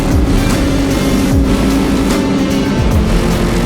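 A 2020 off-road vehicle's engine roars close and loud as the rider pulls away, a continuous revving drone with rising and falling pitch sweeps as the throttle is worked.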